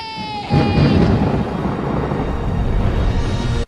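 Thunderstorm from the 2003 Peter Pan film: a brief held tone gives way to a loud, sustained rolling rumble of thunder that fills the whole stretch before cutting off abruptly.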